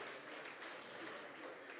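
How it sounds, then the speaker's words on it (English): Audience applause for a senator at a Lagos State records and archives bureau event, a soft, distant, even patter of many hands clapping with no break. "Can I have a round of applause for him"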